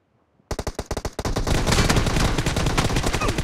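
Rapid automatic gunfire from the PUBG Mobile battle royale game, starting with a string of distinct loud shots and then merging into a dense, continuous burst that stays loud and close until the end, with no talking.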